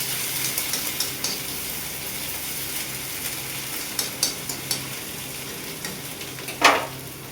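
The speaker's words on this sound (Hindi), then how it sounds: "दाल को तड़का लगा लेते हैं फटाफट से," Dal tempering (tadka) sizzles steadily in a home kitchen, with a few sharp pops and clinks from stirring, close and moderately loud with no talk.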